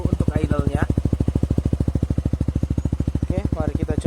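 Yamaha NMAX scooter idling with a Daytona GP slash-tip exhaust, a steady, rounded, rapid even pulse close by, with a person talking over it at the start and end.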